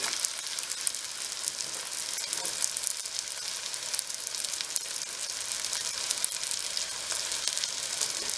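Green onion cakes fry in a pan with a steady, bright crackling sizzle of hot oil that continues evenly throughout, close and without talk.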